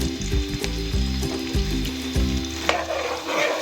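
Onions frying in hot ghee in a kadai on a stove, a steady close sizzle with soft stirring scrapes running throughout and no voices.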